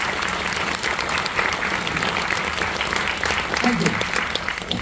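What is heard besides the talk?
students applauding loudly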